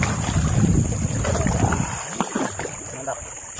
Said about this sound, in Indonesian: Kita berdayung teman-teman.